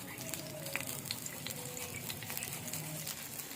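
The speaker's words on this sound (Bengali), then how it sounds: "এবার এই দুটোকে ভেজে নেব।" Chopped green chilli and grated ginger frying in oil in a pan, giving an even, hissing sizzle that holds at a steady level throughout, with a few small pops and crackles and no voices.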